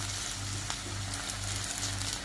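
Potatoes frying in a pan over a medium flame, a steady close sizzle and crackle with a faint low hum beneath.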